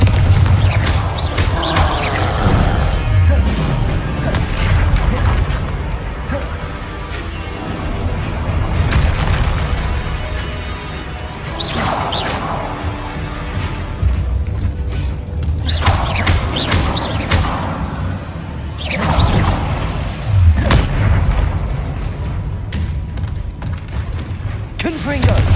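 Confringo fire spells in Hogwarts Legacy burst in repeated loud explosive booms spaced several seconds apart, each a sharp blast trailing into rumble, with speech heard between them.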